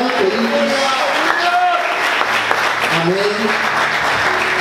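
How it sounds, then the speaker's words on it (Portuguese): A church congregation claps in praise during a morning service, a steady wash of applause mixed with voices and a sung or spoken response. "Aplauda o Senhor nesta manhã, queridos."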